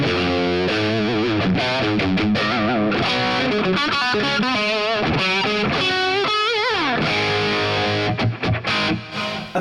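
Electric guitar played through a Friedman Runt 20 amp with tight high-gain distortion, loud chords and sliding riffs ringing continuously before a few choppy stops near the end.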